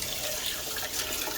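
Tap water running to rinse baked-on grease and oven cleaner off cookware, a short, faint, steady splashing stream.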